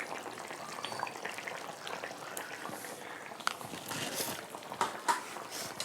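A papaya dish with garam masala cooks in a pan, giving a faint, close sizzle and bubbling with scattered soft scrapes and clinks from stirring.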